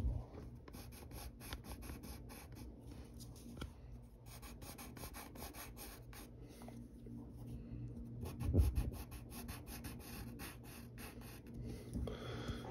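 A pencil drawing on paper makes continuous soft scratchy strokes in quick repeated bursts. It is close and faint, with a quiet voice at times underneath.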